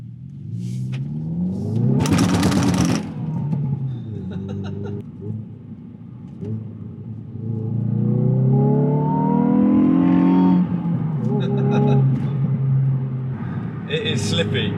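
A Hyundai i20N hatchback being driven, its engine note rising and falling with a steady road rumble, while someone talks over it and a few brief clicks and knocks come from inside the cabin.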